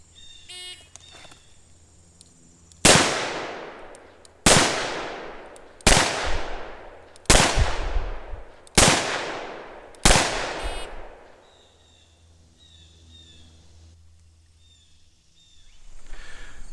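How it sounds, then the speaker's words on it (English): A .44 Magnum Mountain Gun revolver fires six loud, sharp shots at an outdoor shooting course, spaced about one to one and a half seconds apart, each followed by a ringing decay, with quiet ambience before and after. "the shooter again has to draw and fire 6 rounds into the body of the target, this time in a time limit of 10 seconds"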